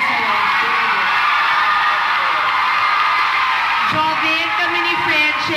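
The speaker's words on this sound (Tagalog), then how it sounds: "Grabe ang sigaw nila sa'yo." A large audience at a televised talent show semi-final roars with sustained screaming and cheering, loud and continuous, with voices shouting throughout.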